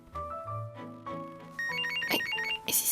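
A mobile phone ringtone plays a bright, rising electronic melody, close and clear with no voices over it.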